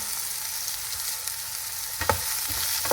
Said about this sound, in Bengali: বেগুনটাকে একদম কাইটা কাইটা ছোটো করছি এখন এটাকেও একটু ভাজি করে নিতেছি